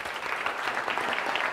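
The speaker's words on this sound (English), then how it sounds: "So a big round of applause for Darshan" A tech-session audience breaks into brief, dense applause, an even wash of clapping hands at moderate loudness with no talk over it.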